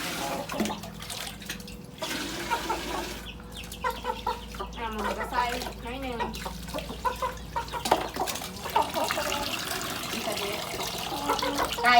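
Domestic chickens cluck and call in a rural Lao farmyard, irregular bursts near and far, with running water, general bustle and occasional talk in the background.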